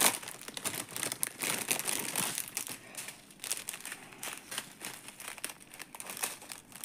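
A crinkly plastic bag of diamond painting drills being opened, with continuous close crackling and crumpling of thin packaging, fairly quiet and steady with no talking.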